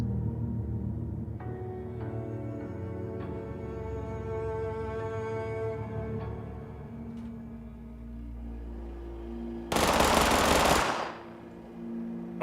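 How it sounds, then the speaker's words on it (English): A rapid-fire weapon in Fallout 76 lets off a short, loud, dense burst near the end, cutting in over a steady hum of game music and ambience. "somebody's got a rapid fire weapon"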